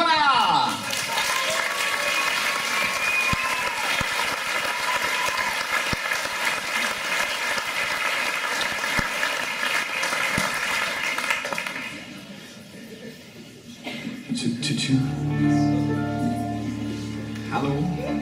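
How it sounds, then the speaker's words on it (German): Audience applause at an open stage show in the Roxy club in Ulm, a dense, sustained round of clapping from a crowd that fades out toward the end as people begin talking near a microphone. "und wir klatschen für die Startnummer 6"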